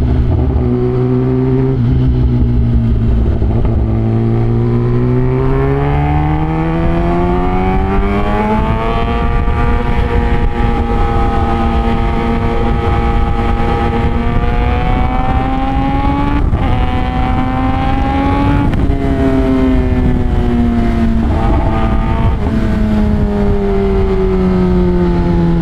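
A Kawasaki ZX-10R sportbike ridden along a coastal road runs loudly and without a break, its engine note climbing and falling repeatedly through the throttle and gear changes.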